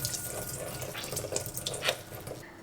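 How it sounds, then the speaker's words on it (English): Water runs and trickles steadily as paneer wrapped in cloth is squeezed by hand, a close, continuous splashing stream that tapers off at the end. "we need to squeeze out any excess water from the paneers"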